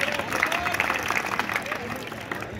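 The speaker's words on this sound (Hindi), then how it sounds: "तो इन सभी छात्रों के लिए आप एक बार वेरी गुड ताली बजाएं" Crowd of students and staff at an intercollege function in India breaks into dense, sustained applause, steady clapping filling the room with some voices mixed in.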